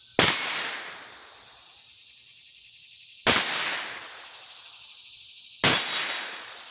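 Three sharp gunshots ring out from a Heritage Rough Rider revolver with a 16-inch barrel, each evenly spaced about three seconds apart, loud and close with a short ringing decay after every crack.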